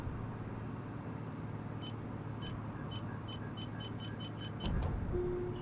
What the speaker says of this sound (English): Silence the alarm